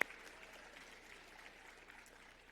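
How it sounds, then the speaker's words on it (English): Faint, distant applause from a lecture audience, a thin, steady patter of clapping heard from far off and at low volume throughout. "you can clap for her"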